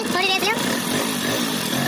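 A Hero Honda Splendor Plus motorcycle engine idles close by with a fast mechanical tappet ticking, while someone speaks over it.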